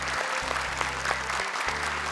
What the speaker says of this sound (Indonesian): Boleh tepuk tangan dan semangat untuk para teman-teman